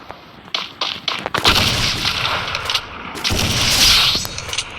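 Gunfire in the video game Free Fire, a quick cluster of loud, sharp shots and booming blasts packed close together in a busy few seconds of combat.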